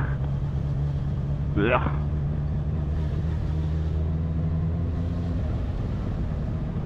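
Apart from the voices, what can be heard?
road traffic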